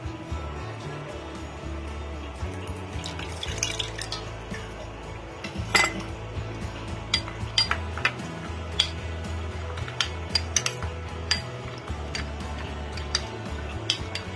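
A spoon works through a pot of street-style chicken soup, giving scattered metallic clinks and scrapes against the pan at an irregular pace, fairly close, over a low background hum.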